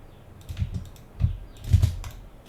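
Typing on a computer keyboard during a SketchUp building tutorial: a handful of soft, close key presses in quick little clusters, with no talking.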